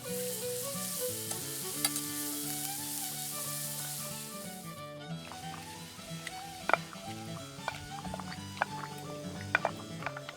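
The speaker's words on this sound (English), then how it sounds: "I'm going to form this up into patties and fry it in our frying pan." Hash patties fry in a frying pan over a campfire, giving a steady sizzle with occasional sharp pops and scrapes, close and continuous, with a faint low hum beneath.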